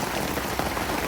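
Heavy rain pours steadily onto a camper awning at a Texas state park during a storm, a dense, continuous drumming hiss with no pauses and no talking.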